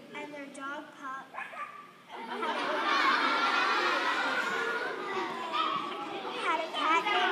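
A group of children imitate a dog barking during a read-aloud of a farm pumpkin story, a burst of excited, overlapping woofs and yips following a lone adult voice and lasting several seconds.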